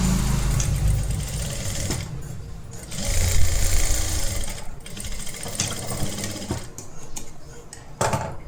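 A sewing machine stitches the back darts of a collar-neck blouse, its steady motor whir running in bursts with brief pauses between runs, close and fairly loud.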